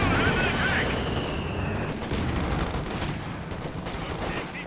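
A ZiS anti-tank gun fires in Company of Heroes 2 amid ongoing battle noise, heavy booming shots and rumbling explosions layered with scattered gunfire, loud and continuous across the clip.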